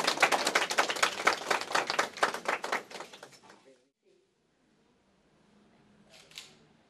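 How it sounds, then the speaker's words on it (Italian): A short burst of audience clapping in a small room, quick and dense for a few seconds, then breaking off into near silence before a brief sound at the end. "Allora facciamo un applauso."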